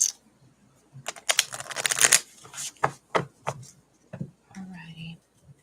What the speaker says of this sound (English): All right, get these shuffled.